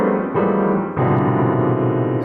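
Piano playing a 2-5-1 chord progression, three sustained chords changing in slow succession, close and full, with no talk.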